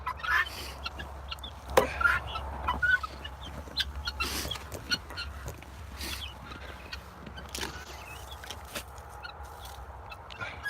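Guinea fowl on a farm, kept in a chicken tractor, call repeatedly in short harsh bursts, some near and some farther off, over a low steady background hum.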